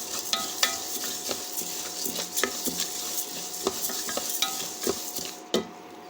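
Black gram and black pepper being dry-roasted and stirred in a pan, a steady gritty rustle with repeated sharp scraping clicks of a spoon against the pan, close and fairly quiet.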